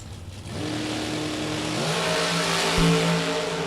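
Drag race car accelerating hard down the strip at a Spring Fling bracket race, a loud sustained engine roar with rising harmonic pitch and a surge near the end, no talk over it.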